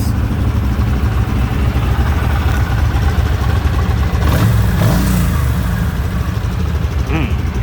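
A motorcycle engine, a DRZ 400 or Vstar 1300, revs continuously nearby, its throaty drone swelling and easing, with a few faint voices in the background.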